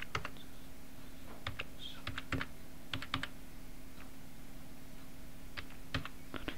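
Keys tapped on a computer keyboard as an ID card number is entered, with light, uneven clicks in small clusters, close and quiet over a steady background hum.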